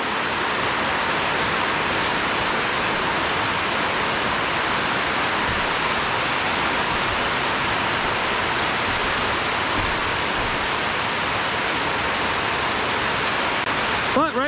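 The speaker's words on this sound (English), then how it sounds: "Now it's a fierce rainstorm." A heavy rainstorm pours down during a home build in Hawaii as a dense, steady roar of falling water, unbroken and loud throughout.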